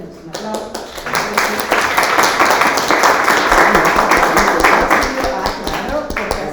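An audience applauds a speaker at an academic social sciences workshop, fairly close clapping with distinct individual claps that builds quickly and holds steady, with some voices mixed in.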